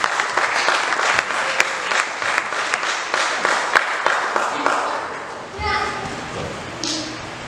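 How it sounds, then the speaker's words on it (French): A church congregation breaking into sustained applause, many hands clapping steadily with cheers, then the clapping tapers off as a voice begins to speak. "Est-ce qu'on peut acclamer pour Jésus?"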